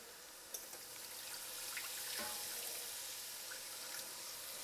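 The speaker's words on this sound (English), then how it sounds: "Next, we're adding our vegetable broth." Vegetable broth pours into a pot in a steady, soft liquid stream with a faint splashy wash and a few small knocks, heard close and quiet without talk.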